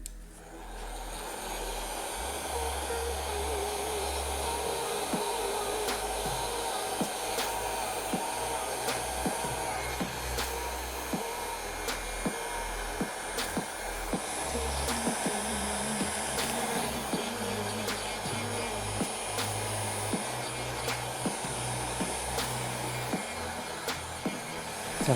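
A heat gun blows steadily on the plastic shroud of a 2021 Yamaha YFZ450R ATV, a loud, close, continuous rushing roar marked by faint intermittent clicks and knocks.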